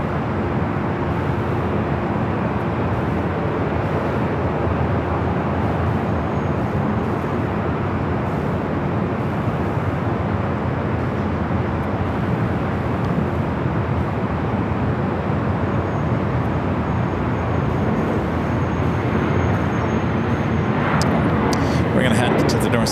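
A Virgin Atlantic airliner bound for London Heathrow rolls down the north side runway at LAX on takeoff, a loud, steady broadband jet roar that fills the whole span and swells slightly toward the end.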